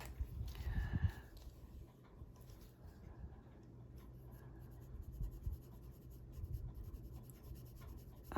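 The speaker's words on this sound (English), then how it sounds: "Define them with the pencil." A pencil sketches flowers on a greyscale coloring page, with soft scratchy strokes on paper, a few firmer scribbles early on, then lighter steady shading, close and quiet.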